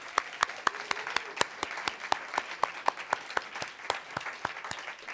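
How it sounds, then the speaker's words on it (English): Applause following poet Nick Flynn's reading at a faculty presentation, heard as a sparse, evenly spaced series of individual claps, fairly quiet, as the clapping dwindles. "More applause for Nick Flynn, please."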